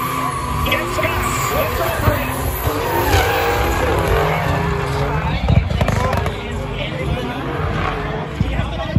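Formula 1 race car drifting during a drift challenge in Austria, a loud continuous roar of engine and squealing tires, with an excited commentator talking over it throughout.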